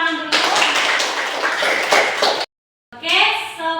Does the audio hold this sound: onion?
no